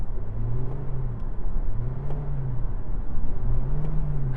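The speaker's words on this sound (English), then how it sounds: "It's like you're revving it when it's stationary." A new Toyota Prius, parked and stationary, gives a low engine hum that swells into a wavering rev-like drone three times at steady intervals, close and continuous with no talk.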